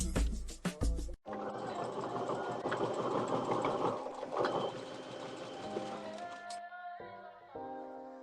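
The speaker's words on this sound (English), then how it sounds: "now I'm just sewing around, closing in the bands" A sewing machine stitches around sweatshirt bands in continuous runs at a steady hum, starting after a few brief stops and easing near the end, with no talk over it.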